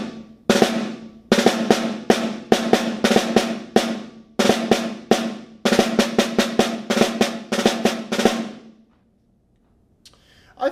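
Snare drum played alone at a slow tempo, a rhythmic figure of sharp strokes with quick drag grace notes, phrased in bursts with short pauses before falling silent near the end.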